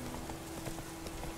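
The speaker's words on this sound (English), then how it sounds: "Come on, horse. Ride like the wind, damn it. And even faster." Horse hooves galloping in Witcher 3: Wild Hunt, a brief run of rhythmic, muffled clip-clop beats over a steady low background hum.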